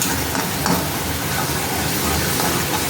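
Ground onion paste fries in a pan for rajma curry, a close, continuous crackling sizzle with soft stirring underneath, loud and even throughout.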